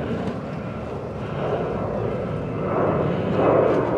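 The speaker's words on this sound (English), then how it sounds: "Just see a plane taking off there." An airplane takes off near Geroskipou Beach in Cyprus, a steady broad jet roar heard from a distance that slowly swells louder over a few seconds, with no other sounds standing out.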